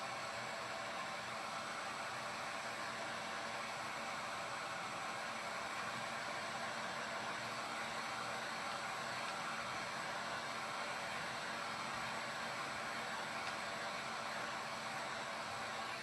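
A craft journal cover being dried with a dryer, giving a steady, even airy whoosh that runs unbroken and moderately quiet throughout, with no talking.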